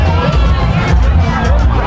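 Festival crowd at a jerk pork festival in Jamaica, a dense, loud hubbub of many overlapping voices chattering close by, steady throughout with no single voice standing out.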